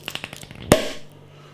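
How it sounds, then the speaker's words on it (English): A few light taps, then a single sharp cork pop close by from a bottle of Abbaye de Vauclair blonde beer, trailing off into a short hiss before quiet returns. "Bit of a pop on the opening."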